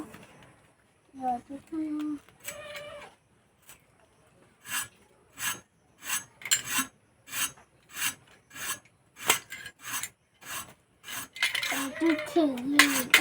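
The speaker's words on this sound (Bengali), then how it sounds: "এবার পটলগুলো ছাড়িয়ে নেব" Thick pointed gourds are scraped to remove their skin, a series of short, rhythmic rasping strokes close to the microphone, with brief speech at the start and end.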